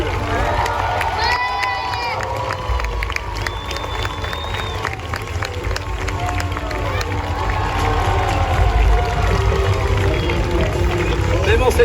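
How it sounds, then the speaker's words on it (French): A crowd cheers a champion at a medieval joust at a European medieval festival, with broad sustained cheering and shouting mixed with an announcer's voice and outdoor bustle throughout. "On peut acclamer notre champion,"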